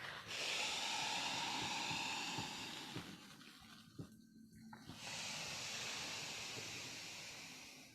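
Two forceful exhalations through the nose, each a long, breathy hiss close to the listener, separated by a short pause with a soft sniff, heard alone.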